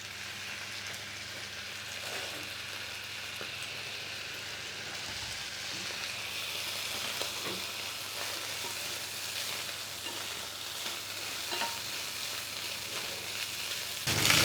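Keema frying in a pan with a splash of dark soy sauce, a steady soft sizzle and crackle that holds at an even level throughout, with occasional stirring clinks and a slight swell at the very end.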